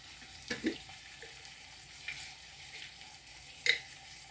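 Mustard seeds and onion with curry leaves frying in hot oil for an eggplant and chickpea curry, a faint low sizzle broken by a few soft pops and spatters.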